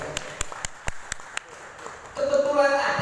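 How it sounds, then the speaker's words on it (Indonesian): A handful of sharp, evenly spaced claps ring out at a village consultative body (BPD) gathering in Cikarang, Bekasi, then fade into louder talk and room noise. "Tepuk tangan."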